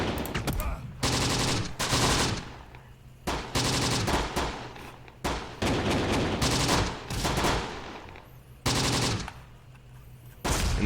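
An 8.8 flak gun in the WWII tactics game Close Combat: The Bloody First fires in repeated loud, heavy bursts, each with a short ringing tail and brief pauses between volleys.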